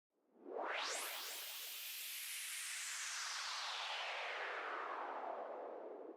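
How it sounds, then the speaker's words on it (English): A self-made white noise transition effect rises quickly into a bright, sweeping hiss that filters downward and sustains as a steady airy wash for several seconds, heard alone. "I know that this is a white noise effect"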